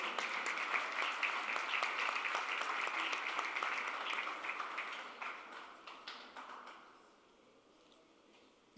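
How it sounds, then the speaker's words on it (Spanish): A business mediation and arbitration forum audience claps together in a steady, moderately loud burst that thins out and fades to near quiet over the last couple of seconds. "Un fuerte aplauso, por favor."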